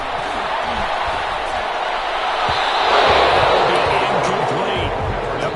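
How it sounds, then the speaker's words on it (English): Steady crowd applause and cheering from a stadium audience in an American football video game after a defensive sack, a broad continuous wash of clapping that swells slightly midway and runs throughout. "Some applause for the defense there."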